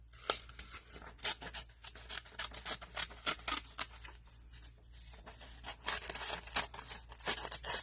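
Scissors snip repeatedly through a book page for a junk journal folder, a quick irregular run of close, crisp cuts with brief pauses, heard alone without talk.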